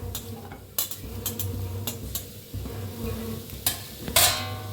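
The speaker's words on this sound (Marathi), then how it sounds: "कढई ठेवलेली आहे, कांदा भाजून घ्यायचा आहे" Onions roasting in a kadhai for an egg dish, with a low steady frying rumble under occasional sharp utensil scrapes and clinks, one louder hissing burst near the end.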